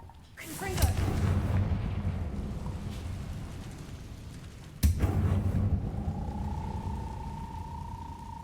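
Confringo fire spell explosions in the Hogwarts Legacy video game, two heavy booms several seconds apart, each followed by a rumbling decay amid game ambience, then a sustained tone.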